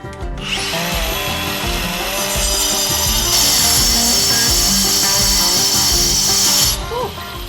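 Angle grinder cutting during plumbing work in a house, a loud, sustained high-pitched whine with rough grinding underneath, running steadily for several seconds close by before winding down.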